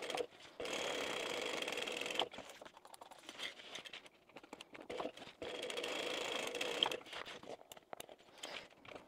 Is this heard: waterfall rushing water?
no